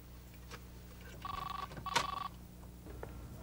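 A telephone rings indoors in a home during a call, two short electronic ring bursts close together, moderately loud over a faint low hum.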